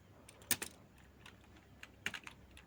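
A few scattered keystrokes clack on a computer keyboard, close and quiet, with short pauses between taps and no talking.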